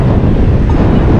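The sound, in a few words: strong wind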